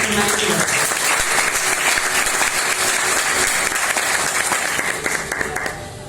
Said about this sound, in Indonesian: Mohon juga beri aplaus buat mentor saya